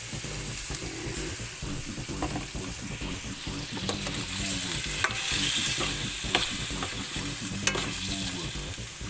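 Chicken browning in a pan, sizzling hard and continuously while a utensil stirs and scrapes in uneven strokes, heard up close.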